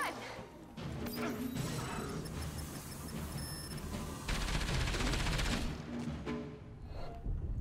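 Gunfire in the Enslaved: Odyssey to the West video game, loud sustained bursts of shots and crashing impacts over a dense battle din, with a heavier rapid volley near the end.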